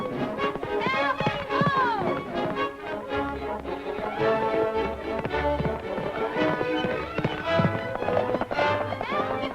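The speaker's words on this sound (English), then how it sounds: "Hey, that horse is running away with her." Rapid hoofbeats clatter in a running rhythm under busy orchestral music, with a horse's whinny rising early on.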